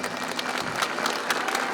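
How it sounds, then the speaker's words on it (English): Thunderous applause greets an NYPD lieutenant walking out of Lincoln Hospital, a brief, steady, dense burst of crowd clapping without speech. "A thumbs up to thunderous applause."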